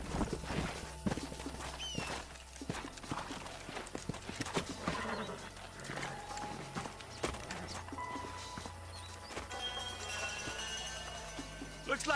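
Horses clip-clop along at a walk in Red Dead Redemption on PS3, irregular hoof strikes with an occasional whinny, over a background of game ambience and music, steady at moderate level.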